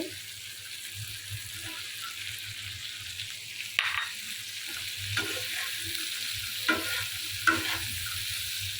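Chopped onion gets stirred into dried fish (shutki) frying in a pan, a quiet low sizzle with intermittent scraping spatula strokes and occasional sharper clinks, without talk.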